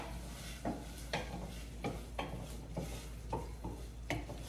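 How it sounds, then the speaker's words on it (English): Coconut milk is stirred into a one-pot meal, a spoon scraping the pot in repeated rhythmic strokes over a faint steady sizzle, quiet and close. "And let's add some coconut milk. All right, and let's just stir that baby up."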